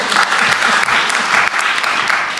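An audience at a political event with the president applauds in a dense, steady wash of clapping for a couple of seconds, loud and continuous.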